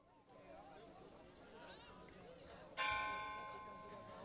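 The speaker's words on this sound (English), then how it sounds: "The church bell rings and mourners gather" A church bell strikes once at a memorial service, ringing out clearly and decaying slowly over a low background rumble.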